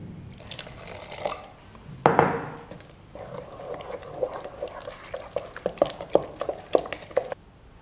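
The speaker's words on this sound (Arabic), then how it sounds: "زيدي شوية ماء." Water splashes and drips into batter for traditional baghrir pancakes with raisins, with a sudden pour followed by a run of quick, close drips and small plops in irregular rhythm.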